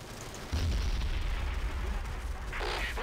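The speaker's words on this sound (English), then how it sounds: "Off-map artillery just came in on us. Insta-act mortars." Mortar shells from off-map artillery explode nearby in Men of War: Assault Squad 2, a sudden deep boom followed by sustained low rumbling and a sharper burst near the end.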